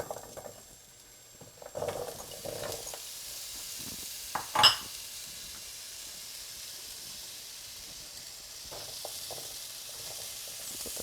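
Sweet potatoes frying in a skillet, a soft, steady sizzle and hiss throughout, broken by a few clunks and a sharp utensil scrape partway through.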